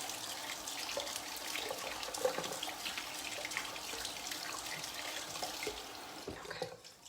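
Tap water runs steadily into a sink while a utensil is rinsed under it, a continuous close hiss with small splashes, no voices, for a Thai shrimp dish with peanut dipping sauce.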